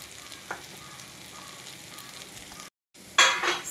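Carrot and moong dal with cumin powder fry in a pan, a soft continuous sizzle with light stirring, broken by a short gap and then a louder burst of crackling.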